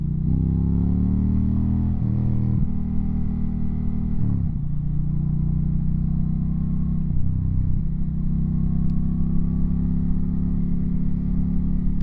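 A 2025 Indian Challenger motorcycle under way, its engine a loud, close, steady drone that rises through several gear changes as it accelerates.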